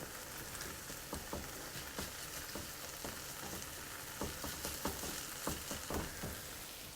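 Grated potato hash browns fry in a pan, a steady dense sizzle with scattered crackles and pops running throughout, with no talk.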